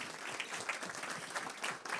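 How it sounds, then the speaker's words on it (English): A brief burst of audience applause after a panel discussion, a dense, fairly faint patter of many hands clapping with no talking. "Would you give him a round of applause"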